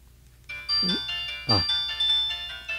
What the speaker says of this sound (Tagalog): Nag-ring to cellphone ko.